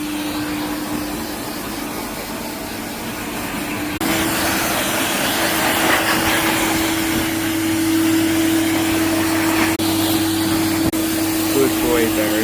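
A pet dryer blows a steady, loud whirring stream of air over a freshly washed Labrador, its pitch shifting partway through as the airflow strengthens, with a person talking over the noise.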